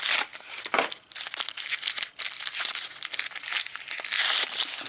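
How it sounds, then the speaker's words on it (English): Tissue paper crinkles and tears near and loud in continuous irregular bursts as it is pulled away from a Transformers Legacy Deluxe Class Brakedown toy car, with no talk over it. "Tissue paper down."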